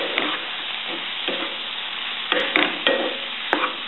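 Brussels sprouts and zucchini stir-fry curry, dressed with fresh lemon juice, being stirred in a hot pan: steady sizzling broken by several scraping stirs of a utensil, close and moderately loud, with no talking.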